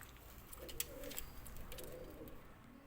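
Old Ferozpuri breed pigeons coo softly in a loft, a few low, faint murmuring calls over quiet background noise.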